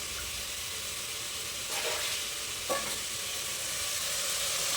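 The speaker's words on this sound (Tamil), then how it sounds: "இப்போ கத்திரிக்காயும் உருளைக்கிழங்கும் போட்டுக்கலாம்" Eggplant and potato pieces hit a hot pan for a Chettinad black chickpea kuzhambu, raising a steady close sizzle broken by two short stirring scrapes, with no voices.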